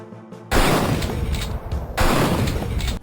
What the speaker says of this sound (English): Watching windows and mirrors shatter into glass shards.